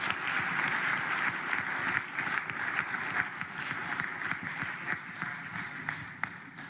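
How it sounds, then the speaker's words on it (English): An audience at a school public speaking competition applauds, steady dense clapping filling the hall at an even level throughout, with a few sharper claps standing out near the end. "another round of applause for her"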